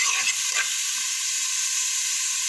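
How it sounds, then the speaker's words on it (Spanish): Onion and garlic frying in a pan, with a steady bright sizzle and hiss and soft scrapes of stirring near the start, heard up close with no talking. "Procedemos a mezclarlo para que no se pegue y no se queme."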